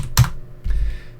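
Typing on a computer keyboard connected to a CanaKit Raspberry Pi 4: two crisp, close keystrokes a fraction of a second apart in a quiet room.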